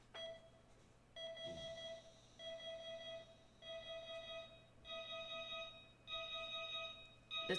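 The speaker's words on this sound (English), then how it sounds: "That's the alarm clock." An alarm clock in the video game Fall of Porcupine rings in repeated electronic beeping bursts of about a second each with short gaps, faint and steady with no talking.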